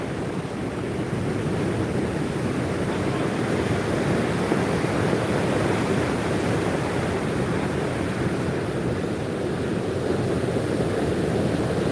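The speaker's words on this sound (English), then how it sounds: "All right, so now you can hear the ocean." Ocean surf pounds the shore at Kingston the morning after Hurricane Melissa, a loud, continuous roar of breaking waves mixed with wind, with no voices.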